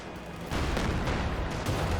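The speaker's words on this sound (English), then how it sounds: "Good shot there from the Stug." StuG assault gun firing in the World War II strategy game Company of Heroes 2, a heavy booming shot within a dense, continuous rumble of battlefield gunfire and explosions.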